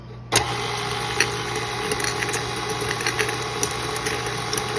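A stand mixer with a paddle attachment mixing cookie dough, starting with a sudden jolt and then holding a steady motor hum with light rhythmic knocks, close and fairly loud with no talk.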